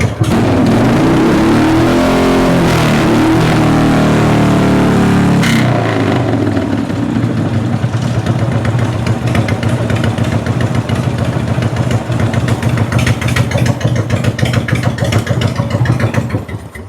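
A sluggish Harley-Davidson Evolution V-twin engine with a charging fault revs loudly and rises in pitch, then drops back to a lumpy, rhythmic idle that runs on close by.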